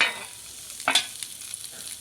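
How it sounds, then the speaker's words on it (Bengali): Eggplant pieces fry in a little oil with a soft, close sizzle, punctuated near the middle by a brief, sharper burst of crackling. "এখন একে একে আমি বেগুনগুলো দিয়ে দেবো। আমি একটু ভেজে দিচ্ছি, আবার তুলে নিচ্ছি।"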